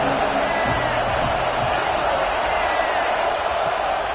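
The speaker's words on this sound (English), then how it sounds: "This crowd rising up," A large crowd at a college football stadium during an Ole Miss vs Penn State game roars continuously in a dense, loud wash of cheering that stays steady throughout.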